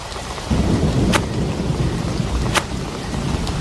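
Heavy rain pours steadily while two sharp cracks of thunder split the downpour, close and loud, with a low rumble beneath.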